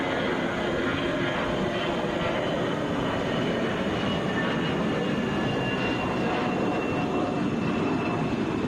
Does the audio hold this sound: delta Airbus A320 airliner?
yes